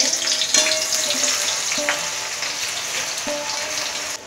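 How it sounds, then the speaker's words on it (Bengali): Black cumin seeds frying in oil in a pan while being stirred, a steady bright sizzle with periodic scraping knocks of the spoon against the pan. "সাজিরেটা দিয়ে একটু ভালো করে নাড়াচাড়া দিয়ে ভেজে নিচ্ছি।"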